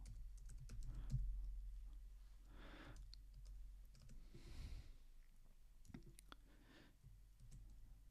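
Quiet clicks of a computer keyboard while entering staff text in music notation software, a few scattered light keystrokes close by over a low hum.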